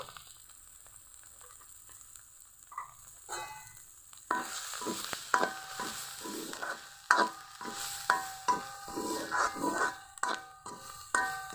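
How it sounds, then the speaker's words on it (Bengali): Steady sizzling of a cucumber-peel mash frying in a pan, broken by repeated scraping knocks of a spatula stirring it, close and fairly quiet. "পুরো ভর্তাটা ফ্রাই হয়ে এসছে"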